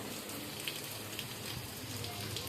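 Heavy rain falls near a temple, a faint, steady patter and hiss of drops on surfaces that continues evenly and then cuts off suddenly.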